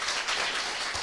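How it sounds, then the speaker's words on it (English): A crowd at a book talk and conversation applauds the author, a dense, even wash of clapping hands filling the short moment without pause or voices. "join me in a round of applause to Lucy"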